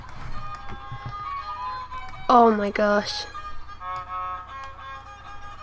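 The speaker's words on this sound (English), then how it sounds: "The violin music has already started." Soft violin music from The Sims 4 game plays faintly in the background, with a voice speaking briefly over it in the middle.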